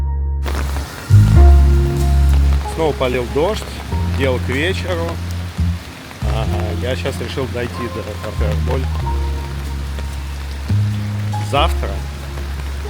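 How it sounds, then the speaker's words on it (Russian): Steady rain pours down in the evening in Buenos Aires, a constant broad hiss beneath someone talking nearby throughout. "Снова полил дождь, дело к вечеру."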